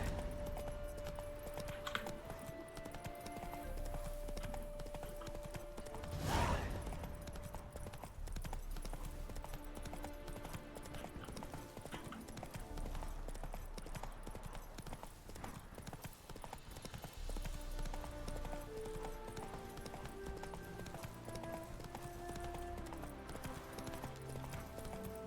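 Roach the horse gallops in The Witcher 3, giving a steady rhythmic clip-clop of hooves at a moderate distance, with a brief louder whoosh partway through and background game ambience.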